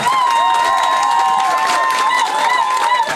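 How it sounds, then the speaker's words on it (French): Wedding guests applaud in a dense, continuous patter of many hands, loud and close, with music and a few voices mixed in underneath. "On va applaudir pour ça."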